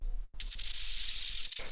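A synthesized noise texture run through chorus and grain delay, a loud, bright, hissing wash that swells after a brief dropout and sustains evenly before cutting off near the end.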